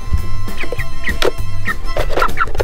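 Chickens clucking on an Alaska homestead, a busy run of short, close clucks and calls from several birds with no talk.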